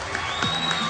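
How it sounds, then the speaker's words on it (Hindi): A studio audience bursts into clapping and cheering on a televised talk show, a dense, loud wash of applause that fills the whole brief moment without a break. "तालियां बजाने भाई।"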